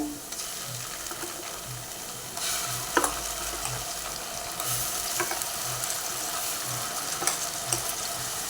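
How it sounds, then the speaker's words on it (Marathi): Ground masala paste sautéing in oil after softened onion and whole spices, a steady soft sizzle with louder stirring bursts, while a faint low rhythmic thump repeats about twice a second underneath, no voices. "वाटण हे परतून घेऊया जोसपर्यंत वाटणाला तेल सुटत नाही तोचपर्यंत परतून घ्यायचं"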